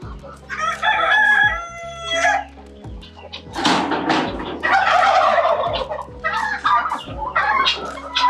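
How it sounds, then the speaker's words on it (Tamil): Native country chickens and roosters on a farm in Theni, with repeated loud crowing and clucking close by, a long crow at the start and more calls and gobbles later, with a person talking briefly. "ஒரிஜினல் நாட்டுக்கோழி தான்."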